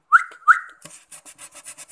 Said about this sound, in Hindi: बस सीटी मारनी है और खाने को उनके आसपास लाना है और सीटी बजानी है